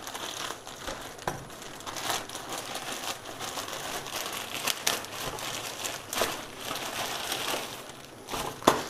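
Crinkling and crushing of packaging as a Xiaomi beard trimmer box is unboxed, with irregular close rustles and a few sharper crackles throughout, no talking.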